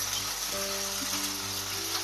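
Crushed ginger and green chilli frying over a low flame for dal makhani, a soft continuous sizzle with a faint steady hum underneath, close and even throughout the short stretch.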